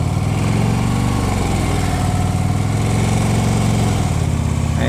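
A motorcycle engine thrumming steadily while being ridden down a country road, a loud, even mid-pitched drone with a slight dip and recovery near the end and no talking.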